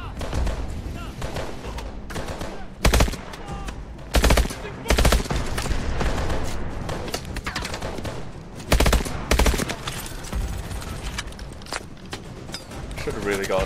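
Rapid bursts of automatic gunfire from the Call of Duty Advanced Warfare video game, loud and repeated in several sharp clusters, with a player talking over the shooting.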